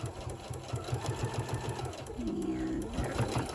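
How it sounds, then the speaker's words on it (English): Sewing machine stitching a fabric hot pad, rapid close rhythmic needle pulses that stop briefly, followed by a short whirring run at a different pitch. "I'm going to finish it off with this last stitch."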